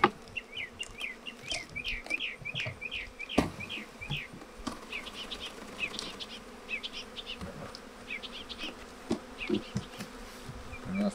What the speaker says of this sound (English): we're gonna go ahead and shake these bees into the hive